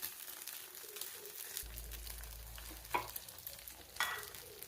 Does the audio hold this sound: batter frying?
yes